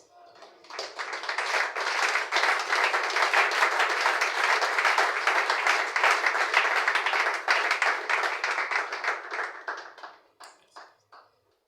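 Church congregation applauding after a sermon, a dense sustained wash of clapping from many hands that fades into a few scattered final claps.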